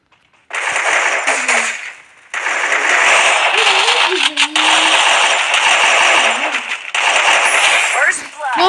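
Rapid automatic gunfire bursts from the mobile battle royale game Free Fire, loud sustained volleys with brief pauses, and a player's voice talking over the shooting.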